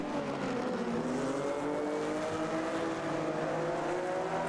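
In a racing video game, a classic race car's engine drones at Goiânia and bogs down, holding a steady, slightly wavering tone as it struggles for revs.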